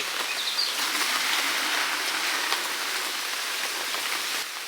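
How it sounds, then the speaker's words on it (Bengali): Hot water is poured over a duck, giving a continuous splashing rush that holds steady for several seconds and then stops abruptly, with no one speaking over it. "গরম জল ঢেলে দিচ্ছি"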